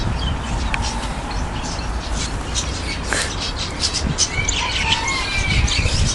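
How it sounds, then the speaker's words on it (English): Busy chorus of budgerigars chirping and twittering continuously in an aviary, with overlapping high tweets against steady background noise. "I heard the budgies a mile away."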